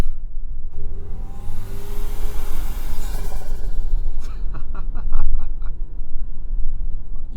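A 2025 Toyota 4Runner Trailhunter 4WD engine at low street speed, a loud close rumbling drone that swells into a rev around the middle, with a rapid series of sharp pulsing pops following, no voices.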